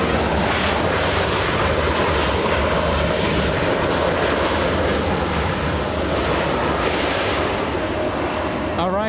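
An El Al airliner at LAX bound for Tel Aviv gives a loud, sustained jet engine roar that stays constant across the whole stretch, with faint talk beneath.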